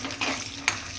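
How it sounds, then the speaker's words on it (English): Peanuts roasting in hot oil in a pan for kanda poha, giving a close, steady bubbling sizzle with a couple of sharp spoon clinks, brief and alone without talk. "So first we add the peanuts. So give it a nice roast."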